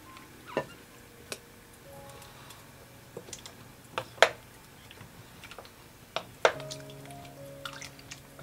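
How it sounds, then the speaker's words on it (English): Pears dropped into hot pickling brine in a pot make soft, scattered plops and drips, about half a dozen faint splashes spread unevenly over a quiet kitchen background. "We're going to go ahead and add our pears."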